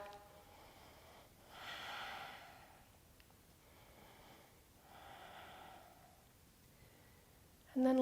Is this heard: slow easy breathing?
yes